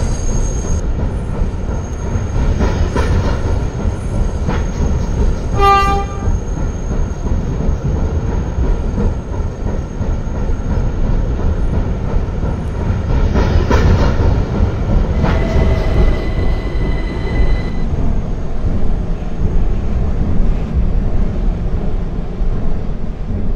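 A Roblox video game subway train rumbles steadily along the track, with a brief wheel squeal and chime-like tones partway through, loud and continuous with no talking.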